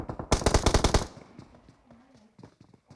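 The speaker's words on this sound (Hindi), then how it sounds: "यहाँ पर माइक्रो बॉय ओपी को नॉक किया है, काफ़ी तेज फायरिंग किया है 11 से आते हुए" Rapid automatic gunfire from the battle royale game PUBG, a loud burst of about a dozen evenly spaced shots in the first second, followed by quieter scattered game sounds and a few distant pops.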